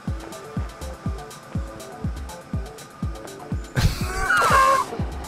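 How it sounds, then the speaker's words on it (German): A tank driving in the video game Human Fall Flat, heard as a steady rhythmic engine chug with regular low pulses, ending in a louder rushing, grinding burst. "Panzer fahren"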